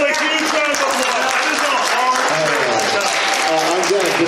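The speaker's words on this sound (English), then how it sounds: "Give them a huge round of applause" Open mic comedy audience clapping, a dense continuous patter with voices and chatter mixed in throughout, close and fairly loud.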